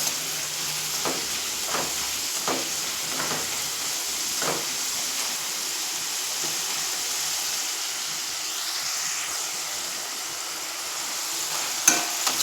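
Homemade potato finger chips frying in hot oil give a steady, even sizzling hiss throughout. Several soft scraping stirs come early on, and a couple of sharper clicks near the end.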